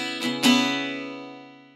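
A single acoustic guitar chord is strummed with one string damped by a resting finger. It gives a close, clear attack with a soft pickup stroke just before it and rings out slowly, fading over a second and a half.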